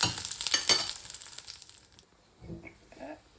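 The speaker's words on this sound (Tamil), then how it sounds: "சொதிக்கு தாளித்து சொதிக்கு போடுவோம்." Spices tempering in hot oil for a Sri Lankan Tamil chicken sothi curry, a loud sizzling burst for the first two seconds that fades to quiet, followed by a few faint stirring scrapes.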